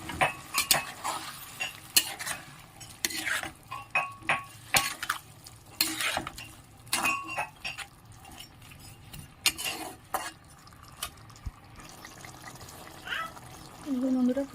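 Fried pieces of fish go into boiling fish curry and get stirred, intermittent clinks of a utensil against the pot and bubbling, with speech in between, close and moderate in level.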